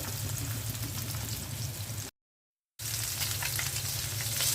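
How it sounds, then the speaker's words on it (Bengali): Pabda fish fries in hot oil in a covered pan, giving a dense, even sizzle that cuts out briefly and then resumes. "মাছটা ভেজে নিচ্ছি। পাবদা মাছটা ভুনা করব।"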